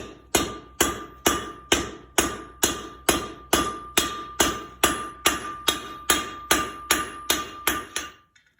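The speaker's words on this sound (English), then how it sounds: "I'll refine it a little bit with a hand hammer" Steady hand hammer blows ring out on hot steel being forged into a leaf, about two per second, each sharp and bright with a short ringing decay, ending abruptly.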